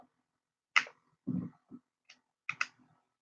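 Scissors cut paper in a few short, crisp snips and clicks, spaced irregularly and heard close with silence between them.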